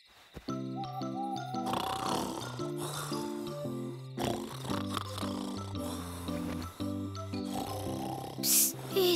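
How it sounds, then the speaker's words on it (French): A cartoon grandfather rabbit snores loudly in a children's animated show. Rhythmic, rumbling snores repeat over a playful musical backing, and a bright chime sounds near the end. "Papy, tu ronfles trop fort."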